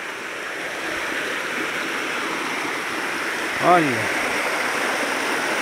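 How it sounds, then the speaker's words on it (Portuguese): Small waterfall on the Ribeirão dos Cágados stream, near a little dam, giving a steady broad rush of falling water that runs unbroken throughout, with a brief spoken word partway through. "cachoeirinha do Ribeirão dos Cágados"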